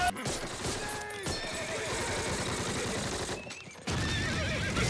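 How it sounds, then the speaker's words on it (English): Horses neigh and whinny loudly amid a chaotic WWII combat scene from the Band of Brothers episode Day of Days, with clip-clop of hooves and distant gunfire mixed in; the noise runs continuously, dropping briefly near the end before returning. "Oh, the horses!"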